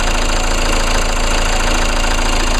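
The 2-liter four-cylinder EcoTec turbo diesel of a 2014 Chevy Cruze idles, a loud, steady, even rumble with a constant high whine on top, close to the engine bay and alone.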